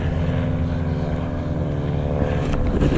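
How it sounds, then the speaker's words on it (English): A plane takes off in the distance, its steady propeller-like drone held at an even level throughout with a dense low rumble and no talk over it. "There's a plane there taking off now."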